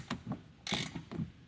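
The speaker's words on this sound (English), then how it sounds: "install the bottom bolt and tighten everything down" A ratchet tightens the bolts on Kryptonite shock extensions fitted to a 2011-or-later GM HD truck. Several quick clicking strokes sound close and faint, with one brief louder rasp in the middle and no talking.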